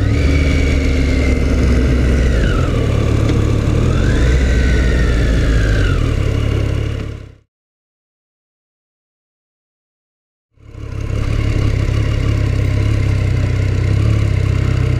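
A motorcycle engine drones steadily with rising and falling revs, cuts to complete silence for a few seconds, then resumes its loud, close rumble.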